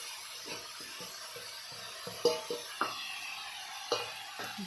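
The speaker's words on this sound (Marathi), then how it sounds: "छानपैकी पूर्ण एकजीव होईपर्यंत मिक्स करून परतून घेऊया" Fasting halwa with jaggery sautéed and stirred in a pan, a quiet soft sizzle broken by a few light scraping and tapping strokes of the spoon, with no talking.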